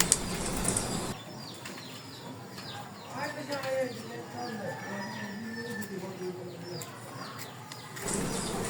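A pair of black Sirazi pigeons shuffles and flaps in a cage, with soft coos and light wing flutters under a person talking close by.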